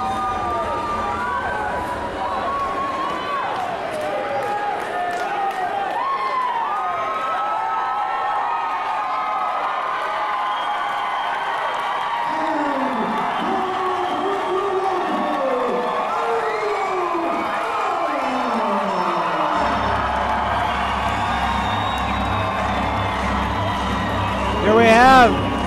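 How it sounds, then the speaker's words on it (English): Crowd at a Montana mixed martial arts fight in Butte cheering and shouting excitedly for fighter Ariel Beck, a steady roar of voices sustained throughout with a louder swell near the end. "You can hear the crowd super excited for Ariel Beck"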